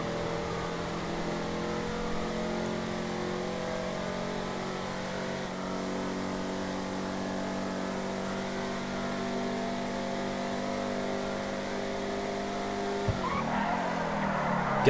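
Broadway Classique car in GTA Online, a classic car not built for performance, engine droning steadily at high revs for a long stretch, ending in a sudden burst of tire skid and noise near the end. Loud and close.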